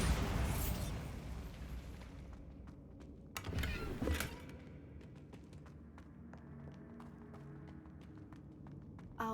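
Bombarda blasting spell in Hogwarts Legacy, a loud burst of crackling and rumbling that fades quickly, then a second sharp crashing blast with scattered debris clicks settling into quiet.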